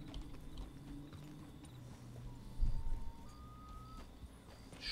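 Horse hooves clip-clop steadily in Red Dead Redemption 2 near Rhodes as a horse moves at an easy gait, with a faint ambient hum and a brief louder thump midway.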